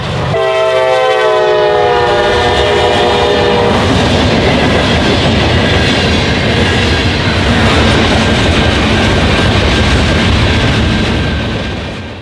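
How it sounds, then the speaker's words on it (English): An SD60E locomotive running long hood forward hauls a local freight train past in Northwest Ohio. The horn sounds loud and close for several seconds, then a sustained rumble and clatter of wagons fills the rest. "an SD60E locomotive running long hood forward, pulling the North Star steel turn"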